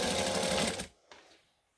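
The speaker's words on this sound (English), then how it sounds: "I'm going to chain stitch them all." A sewing machine chain stitching fabric pieces for a table runner runs in a fast, loud, even whir for under a second, then stops, followed by a faint click.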